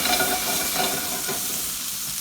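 Brown butter sizzles and crackles loudly in a pan while gnocchi is being made, a continuous close frying hiss with soft stirring and no talk.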